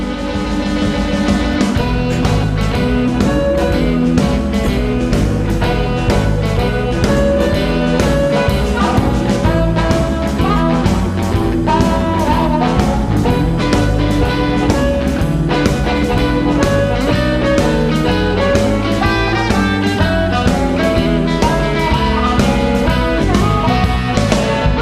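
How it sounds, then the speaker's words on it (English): Live band recording with electric guitars, dense and continuous with driving drums, strummed guitar chords and full bass, loud and steady throughout with no talk. "you can go get a band, you can hook up the guitars, you can get a microphone, and it can sound like this"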